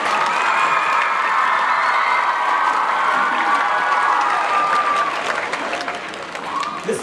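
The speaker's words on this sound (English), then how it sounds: "Mom, go ahead, clap. Go ahead, clap." Sustained applause from a school audience honoring Mrs. Smith, a Richmond piano teacher at a Kentucky All-District event; dense, steady clapping with scattered cheers that stays loud throughout, then thins slightly near the end.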